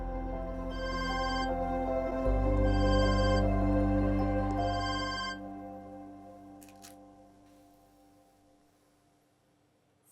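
A telephone rings in three quick bursts over a loud sustained drone that fades away, leaving near silence.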